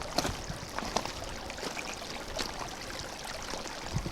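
Water runs steadily through a portable survival water filter, a continuous close trickling and pouring stream with small splashy bursts, no talking over it.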